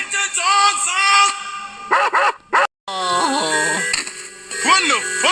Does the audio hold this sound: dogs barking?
yes